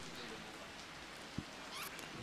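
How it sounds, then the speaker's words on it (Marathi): Rain patters steadily on the ground during a cricket match, a soft, continuous hiss with one brief knock partway through and no talk. "पुन्हा एकदा पावसाचं आगमन"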